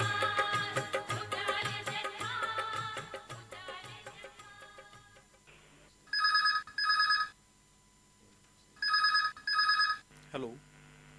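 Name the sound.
telephone ringing for a radio call-in program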